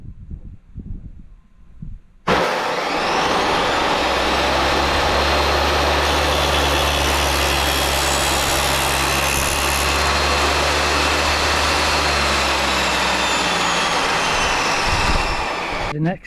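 A table saw with a dado blade cuts a 3/4 inch channel into the front face of a wooden planter, starting after a moment of quieter handling and then roaring loud and steady, close up, for the rest of the clip.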